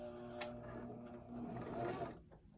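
A sewing machine stitches a fabric pillow in short bursts of rapid mechanical whirring, close and steady. The motor speeds up and slows as the work is guided under the presser foot.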